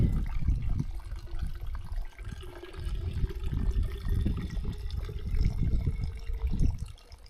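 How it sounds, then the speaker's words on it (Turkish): Water running from a mountain forest fountain while a bottle is refilled, a steady low splashing gush that continues throughout with small fluctuations in flow. "Çeşmeden suyumu tazeledim."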